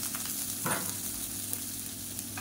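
Chopped onion sautéing in hot oil in a pan for a South Indian millet breakfast dish, a steady close sizzle with one brief stirring scrape partway through, no voices.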